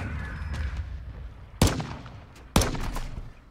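Two sharp, loud gunshots in a multiplayer shooter, about a second apart, each cracking over a low background rumble and trailing off quickly.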